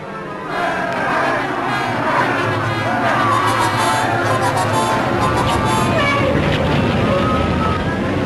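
A large crowd gathered outside the New York Stock Exchange during the market crash, a steady wash of murmuring voices and street noise, continuous and fairly loud throughout.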